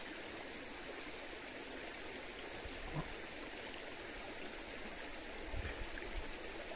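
River water flows steadily with a continuous rushing, babbling wash, close and even throughout, with a few small splashes and gurgles rising near the end.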